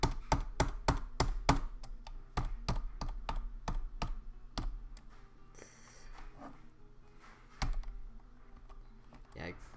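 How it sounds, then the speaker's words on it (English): A computer keyboard tapped during a Dwarf Fortress session, a rapid burst of sharp, close keystrokes that slows to scattered taps, with a voice murmuring between them. "I guess I could be quieter with my keyboard tapping"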